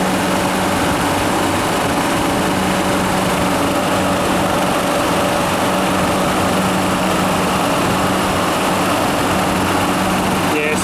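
A weak refrigeration compressor runs while pumping down, giving a loud, steady mechanical hum with a constant tonal drone and unchanging level throughout.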